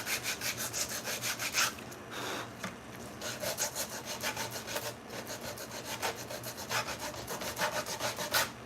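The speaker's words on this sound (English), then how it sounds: "I'm going to kind of round these edges off with my sander." A power sander rounds off the sharp edges of a thrifted wood-like cross, a steady close abrasive whir with rhythmic pulses as it passes over the edges, running alone without talk.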